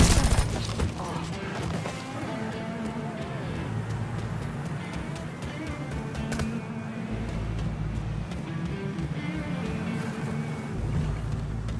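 Gunfire in the Mafia III: Definitive Edition video game on PC: dense, sustained bursts of shots and crashes rattle through a loud, busy game mix, with voices shouting over the firefight.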